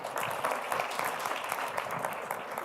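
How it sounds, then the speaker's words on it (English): Audience at a live interactive session with an LGBTQI+ society claps in a continuous, moderately quiet round of applause, even in density from start to finish. "Round of applause, ladies and gentlemen"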